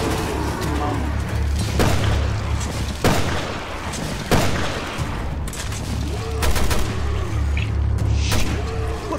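Repeated gunshots and booming blasts in Resident Evil: Revelations 2 ring out in bursts, with people talking over the gunfire throughout.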